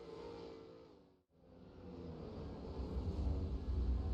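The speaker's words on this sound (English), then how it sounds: "So Zach O'Reilly back out on track" A Nissan race car rejoins the circuit at a motorsport event, its engine building from a steady roar to a louder, rougher growl as it accelerates, with a brief dip in sound near the start.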